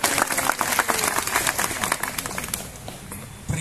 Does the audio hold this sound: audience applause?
yes